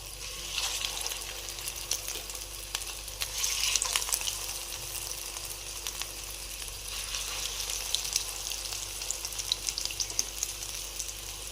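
Kebabs frying in hot oil for a Ramadan meal give off a steady, soft sizzle and crackle that continues evenly throughout, close by and moderately quiet, with no one speaking.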